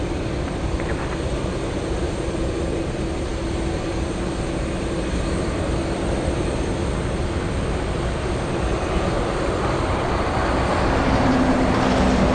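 An Atlas Air Boeing 777 pushing back and departing at Anchorage airport gives a steady, broad jet engine roar that holds close and loud throughout and swells slightly toward the end.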